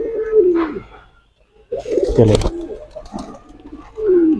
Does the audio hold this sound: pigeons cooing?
yes